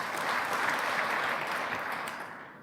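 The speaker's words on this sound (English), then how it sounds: "Now clap if the right is fake." Lecture-hall audience clapping at a computer vision conference talk, a moderate, distant ripple of hands that holds steady and then tails off at the end.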